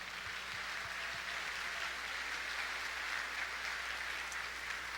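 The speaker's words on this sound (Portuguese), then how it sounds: "I think you ought to give yourself a good hand clap for that" A church conference congregation on marriage claps in a sustained wash of applause, heard from a distance. It stays even and moderately faint throughout, with no voices over it.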